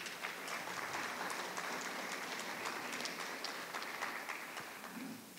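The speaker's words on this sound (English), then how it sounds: "So big applause to our panelists." Audience applause for panelists at a Women's History Month staff mentorship event, a fairly quiet, distant wash of many hands clapping that stays steady throughout, alone with no voices.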